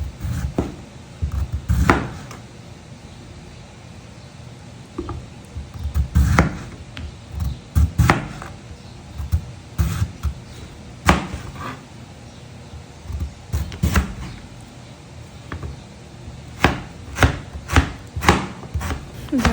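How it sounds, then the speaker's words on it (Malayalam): A knife chops peeled beetroot on a cutting board, irregular clusters of sharp close taps and knocks spread throughout, with short pauses between bursts. "ഇനിയിപ്പോൾ നമുക്കത് ചെറുതായിട്ടൊന്ന് കട്ട് ചെയ്തെടുക്കാം."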